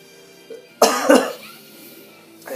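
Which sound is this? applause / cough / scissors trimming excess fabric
cough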